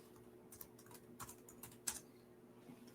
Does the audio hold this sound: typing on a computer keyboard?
yes